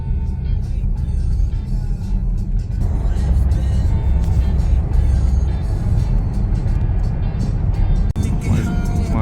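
Car driving along a road in Sweden, a steady loud engine and tyre rumble from inside the cabin while people talk over it.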